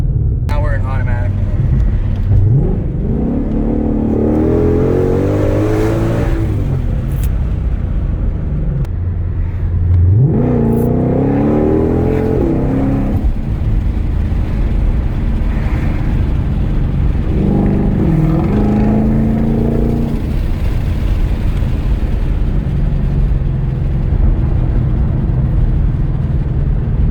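A 2020 Shelby GT500 with its exhaust in track mode revs hard three times, each loud rising blip falling back to a deep rumbling idle, close by with a few words spoken between the revs.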